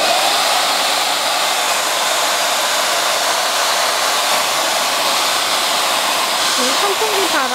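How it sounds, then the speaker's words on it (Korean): A JMW MA6001A hair dryer blows air in a loud, steady, unbroken rush close to the microphone, with a brief voice rising faintly near the end. "이렇게 전원을 꽂아서 바람을 일으켜 보겠습니다"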